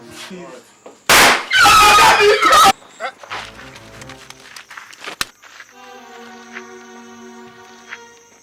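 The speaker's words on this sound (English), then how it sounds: "A gunshot." A gunshot rings out in a tense standoff during a Nollywood drama, one sharp loud crack followed by a heavy burst of noise, then scattered clatter and a lingering ringing tone.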